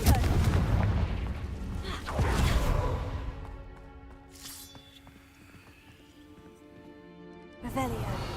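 A Confringo explosion spell bursts in Hogwarts Legacy amid booming impacts and rumbling combat noise, with a voice speaking over the loud, dense game soundscape.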